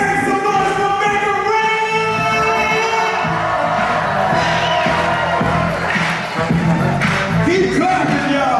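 A live show audience cheers and shouts continuously, a dense loud crowd roar with whoops rising over it and music and an amplified voice underneath.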